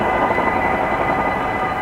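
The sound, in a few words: train at railway crossing with barriers closed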